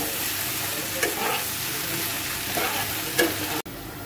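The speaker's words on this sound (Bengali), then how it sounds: "এরকমভাবে মশলা গুঁড়োটা দিয়ে ভালো করে নেড়ে চেড়ে নেব" Spice powder is stirred into potatoes and peas frying in oil in a pan: a steady, close sizzle with soft spatula scrapes and a couple of light taps, ending in a sharp click.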